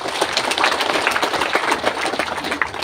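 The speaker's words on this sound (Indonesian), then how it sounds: "Tepuk tangan dulu." A crowd at a corn harvest event claps in a round of applause. The clapping is loud, dense and continuous throughout, with no speech over it.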